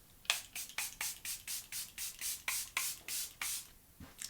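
Charlotte Tilbury Airbrush Flawless setting spray is misted in about a dozen rapid, even hissing pumps, close and soft, with a faint tap at the end.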